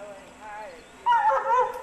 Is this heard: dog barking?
yes